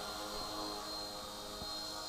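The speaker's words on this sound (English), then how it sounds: "So I'm really excited about these Eachine helicopters with the altitude hold." An Eachine E129 RC helicopter hovers with altitude hold, its small electric motor and rotor giving a steady, close, high-pitched whine with a constant tone throughout.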